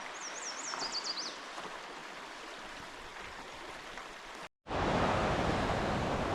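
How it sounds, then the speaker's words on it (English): Broadband rushing water from river rapids and a waterfall on a Boundary Waters portage trail roars steadily, faint at first, then swells much louder after a brief cut. A bird chirps early on. "Really good rapids and a waterfall up here."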